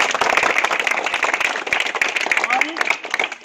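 Crowd clapping at a birthday greeting during an award function, a dense burst of many hands applauding steadily and fairly close, with voices mixed in.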